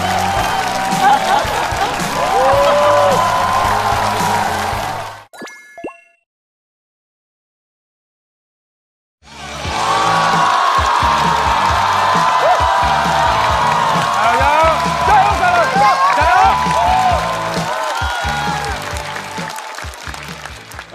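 Audience applause and cheering at a stand-up comedy show, loud and dense with whoops, breaking off into a few seconds of silence, then swelling again into sustained clapping and crowd noise.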